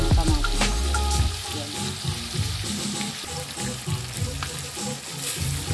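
Tomatoes sizzle steadily in hot oil in a pan for ginisang ampalaya, with bursts of stirring and scraping against the pan that come up close and fairly loud throughout.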